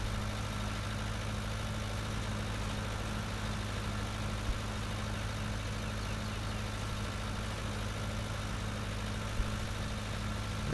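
A tractor engine idles steadily in Farming Simulator 19 on an Irish farm during second-cut hay work, a continuous low mechanical drone with a constant hum and no talking.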